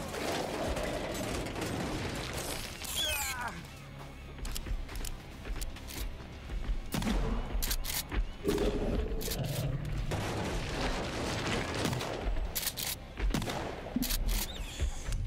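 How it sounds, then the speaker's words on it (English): Shotgun blasts in the survival game Sons of the Forest, a series of heavy booming shots spread across the stretch, with mechanical clatter and game ambience between them. "Let's quickly use the shotgun."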